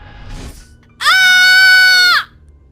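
A girl lets out a loud, sustained scream in a moving car, preceded by a faint short sound, and the scream ends abruptly after about a second.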